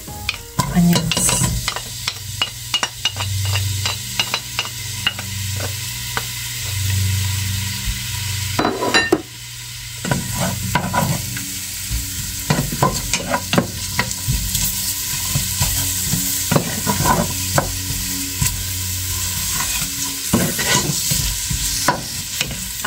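Onions sizzle steadily in a hot pan while a utensil scrapes and clatters against it in frequent stirring strokes, close and fairly loud, with no voices.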